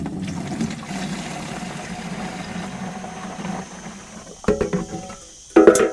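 Water sloshing and pouring out of a tin into a compost worm farm bin, a gentle trickle that turns into louder splashes and a final gush near the end.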